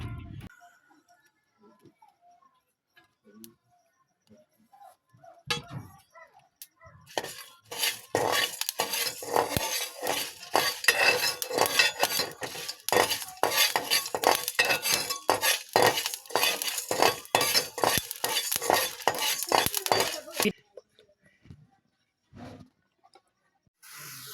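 Dried chilies, garam masala, cumin and panch phoron are stirred in a pan, a busy run of scraping and metallic clinks that goes quiet before and after, with scattered softer knocks.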